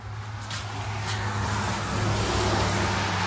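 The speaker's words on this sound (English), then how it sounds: "traffic going by in the wet ground, making tire noises" Cars roll past on a wet road, their tires throwing up a constant hissing swish beneath a low traffic rumble that builds slightly.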